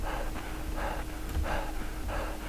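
A character in the video game Survivalcraft panting: rhythmic, breathy exhalations repeating about every half second, close and steady over a low background hum.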